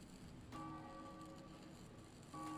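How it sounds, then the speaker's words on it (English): Beast Bell chime from a Dark Souls 3 weapon buff: a bright ringing tone starts sharply around half a second in and sustains, then a second ringing strike near the end, both over steady game background noise. "Can I still buff my weapon with the Beast Bell?"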